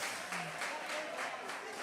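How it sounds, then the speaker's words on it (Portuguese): Congregation at a church service claps in a dense, steady wash of applause, moderately distant and fairly faint. "Aplauda Jesus pela vida de Jesus."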